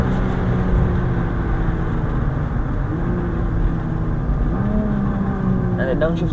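A supercar engine drones loudly on a street in Kenya, a sustained, close-up rumble with shifting pitch as it accelerates and downshifts. Voices talk over it.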